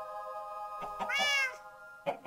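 A Minecraft cat gives a drawn-out, wavering meow, then two shorter mews, over a steady humming background tone.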